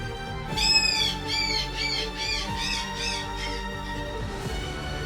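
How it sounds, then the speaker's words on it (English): Harsh, repeated squawking calls from a seabird colony of puffins, gannets and fulmars nesting on vertical sea cliffs in the Faroe Islands, about seven rhythmic calls in a row over a steady background rush. "Puffins, gannets, and fulmars nest in the thousands along the vertical rock faces."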